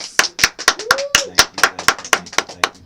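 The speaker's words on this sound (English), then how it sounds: "Can we get a hand clap, please?" A small group claps loudly and close for a guest at the start of a creative conversation show, distinct sharp claps in an uneven rhythm, with a brief vocal whoop partway through.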